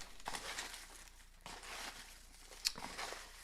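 Paper name slips shuffled around inside a box, giving continuous soft crinkling and rustling with a few sharper crackles, fairly close and alone without talk.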